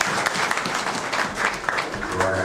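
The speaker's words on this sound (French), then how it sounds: "Applaudis, mon Dieu." Congregation applauding in a church service after a preacher's sermon, a dense, steady wash of many hands clapping throughout with some faint voices mixed in.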